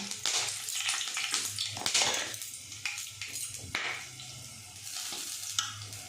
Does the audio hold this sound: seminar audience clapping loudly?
no